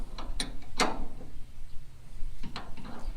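A hand ratchet tightening a 9/16 bolt on a truck frame: a few quick, close mechanical clicks in short bursts, separated by brief pauses, against quiet workshop background.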